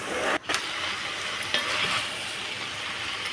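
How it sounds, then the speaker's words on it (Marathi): Chicken, potatoes, carrots and beans sizzle while being stirred in a pan for a Kerala-style chicken stew, a steady close frying hiss with a couple of brief scraping knocks. "त्याच्यानंतर चिकनसुद्धा ॲड करूया. छान असं मिक्स करून घेऊया."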